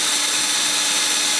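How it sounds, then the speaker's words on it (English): A power drill whines loudly and continuously, drilling out a screw holding down the centre console of a Honda Civic Aerodeck, close up and sustained without pause. "so I'll drill out that screw next"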